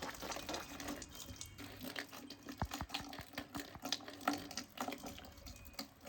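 Water runs and splashes steadily while a motorbike is washed at home, a continuous faint wash of liquid with small clatters and crinkles, no talking.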